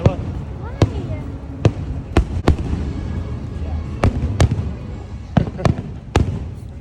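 Fireworks show at Walt Disney World during October, heard as a string of sharp, separate booms and cracks at irregular intervals, fairly loud and echoing, with background crowd noise.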